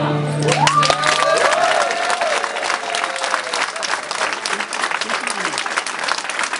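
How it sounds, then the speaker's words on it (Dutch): An audience applauding, a dense sustained wash of clapping that stays loud throughout, with a voice heard briefly at the start over the crowd. "Dit is jouw applaus."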